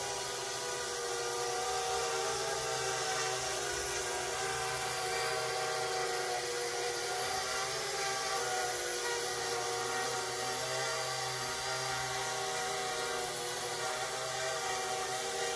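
A small drone steered by a neural network and PID controller flies autonomously, its rotors holding a steady, continuous buzzing drone with layered tonal whine and no pauses throughout.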